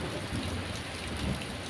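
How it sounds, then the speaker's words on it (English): Heavy rain falling steadily with a low rolling thunder rumble beneath, a dense continuous hiss at moderate level, with no voices. "rain and the occasional roar of thunder"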